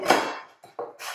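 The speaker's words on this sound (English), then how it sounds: "my trusty, clever chopping board from Active Hands. So that just flips over," An Active Hands chopping board is flipped over, giving a loud clattering knock followed by two shorter, lighter knocks as it settles into place, with no talking.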